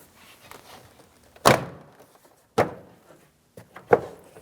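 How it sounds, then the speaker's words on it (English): Three solid thumps of a door panel being tapped into the door of a 2007-2014 GMC Sierra 2500 HD, separated by short pauses, close and fairly loud. "you can tap the door panel in towards the door."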